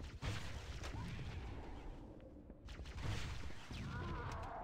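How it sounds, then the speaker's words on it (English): Grenade blasts from Halo: Combat Evolved on Legendary difficulty, a few heavy booms at the start and again around midway, set among gunfire and game noise. "I'll just chuck a few grenades at him."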